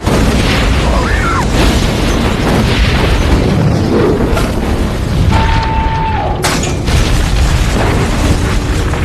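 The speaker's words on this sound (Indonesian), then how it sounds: "Dan ya, mobilnya meledak gak karu-karuan" A car explodes: a loud, booming blast with a sustained rumbling roar, followed by crackling debris and a sharp burst near the end.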